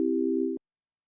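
A steady synthesized perfect fifth, two pitches held together, sounding for about half a second and then cutting off abruptly into silence.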